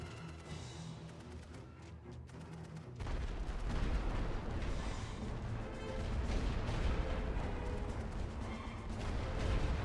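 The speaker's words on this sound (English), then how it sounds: "Incoming order for rolling barrage. Start the barrage." A rolling artillery barrage in The Great War: Western Front opens with a distant, quieter rumble, then swells into a dense, continuous roar of heavy guns firing and shells bursting that holds loud to the end.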